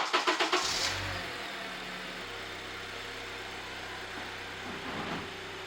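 Four-cylinder Honda Accord engine running as the car backs off ramps: a few sharp revving bursts at the start settle into a steady, moderately close idle hum.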